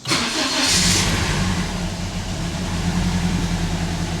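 A 2012 Scion iQ engine fires up and settles into a rough-running idle: a sudden start followed by a steady, close, low mechanical drone, with no one speaking.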